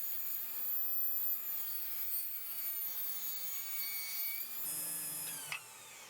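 A table saw ripping wood strips runs with a steady whining drone that shifts pitch near the end as the cut finishes, then spins down briefly; loud and close, with no voices.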